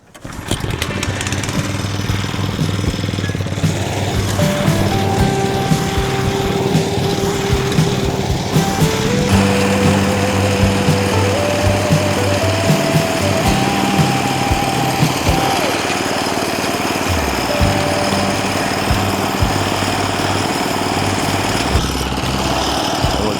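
A lawn mower cuts grass on a home lawn, its small engine droning loud, close and continuous throughout, with its pitch shifting slightly as it works.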